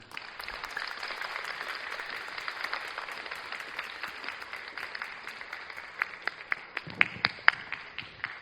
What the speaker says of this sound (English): let's applaud him right back to his chair